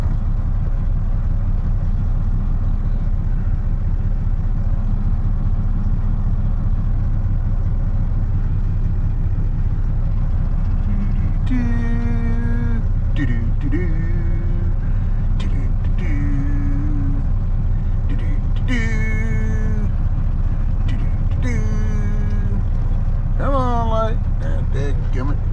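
An old Cummins diesel truck with a big exhaust tip idles at a traffic light, a deep steady rumble that continues beneath someone talking.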